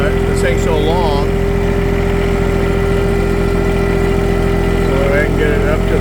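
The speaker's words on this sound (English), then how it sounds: "climb the hill with the tractor, with the bucket in the air" A tractor engine drones steadily and loudly as it climbs a hill with the loader bucket raised, a constant low chugging hum with a whining tone on top, while a voice talks intermittently over it.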